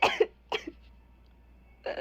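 Two sharp coughs come close together at the start, a third follows after a short gap, and a fourth rough burst arrives near the end, all close and dry against a quiet room.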